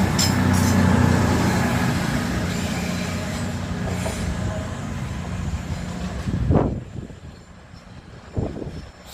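A CrossCountry class 220 Voyager diesel train runs past on a diverted service from Bournemouth to Manchester Piccadilly in southern England. A loud rolling rumble slowly fades, broken near the end by a few sharp clunks from the wheels.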